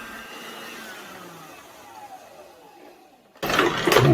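Stand mixer beating cake batter for an apple cinnamon crunch cake, a steady whirring motor hum that fades slightly before a louder, brighter burst of mixing noise near the end, with no talking.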